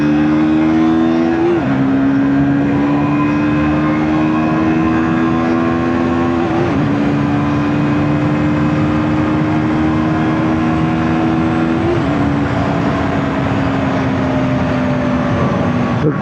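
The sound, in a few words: KTM RC 160 motorcycle accelerating from 0 to 100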